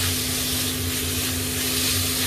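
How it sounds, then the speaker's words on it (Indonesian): Beef stir-frying in a hot pan gives a loud, dense, continuous sizzle and hiss from start to finish, close up and with no talking. "Akan aku masukkan daging sapinya. Nah, ditumis nih."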